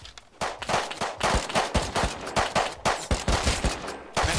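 Rapid bursts of gunfire in the survival game Rust, sharp repeated shots in quick irregular volleys, loud and close, filling the whole moment with no talk.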